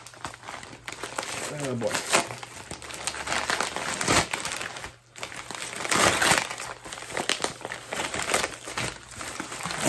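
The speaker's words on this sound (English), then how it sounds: "I'm doing a lot of ripping here, more than cutting." A package being torn open by hand with cardboard and paper ripping and crinkling in close, continuous rustling bursts, while someone talks briefly over it.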